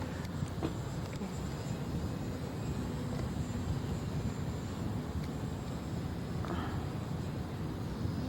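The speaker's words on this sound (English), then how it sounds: "This is my airplane." An F5B electric model airplane flies over Mission Bay, heard as a steady, distant engine whine under heavy wind and background noise, with no talk.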